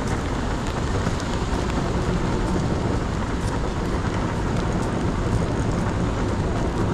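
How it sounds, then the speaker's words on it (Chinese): Steady rain falls outdoors as a continuous, even hiss of dense patter that holds at the same level throughout, with no voices over it. "因为下雨不开的"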